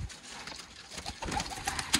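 A female Sialkoti pigeon coos among other pigeons, soft low burbles repeating over two seconds against a busy, hissy background of birds.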